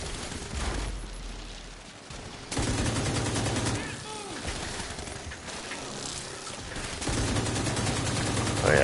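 Gunfire in The Division 2 on PS5, with bursts of automatic shots in several stretches, loud and close, broken by brief lulls and game sounds.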